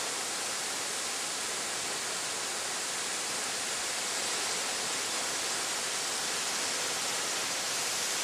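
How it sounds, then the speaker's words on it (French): A waterfall in Tahiti roars in a constant, broad hiss of falling water, heard close from its base and steady throughout with no voices. "on est au pied de la cascade"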